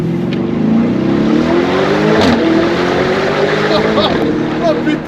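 A Lamborghini Urus with 800 hp accelerates hard, heard from the back seat: a loud, rising engine roar with shifting pitch over a few seconds, under occasional voices.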